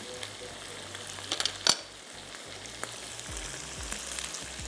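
Meat frying in a pan with browned onions stirred in, a steady low sizzle with a few sharp scraping clinks and spatter bursts, close and moderately loud, no voices.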